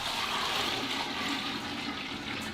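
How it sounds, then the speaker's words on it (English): Melted wagyu beef fat pours in a steady stream into a candle mold, a continuous close liquid gushing and splashing wash with no speech. "That's a steady stream of fat right there."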